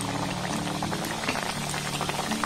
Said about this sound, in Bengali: একইভাবে আবার আমি একটা ভেজে নেব